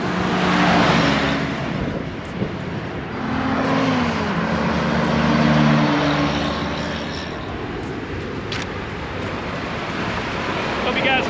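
A 1946 Willys jeep drives past outdoors in South Florida, its engine rising as it nears and fading as it moves away, with a second swell of engine and tyre noise and steady wind.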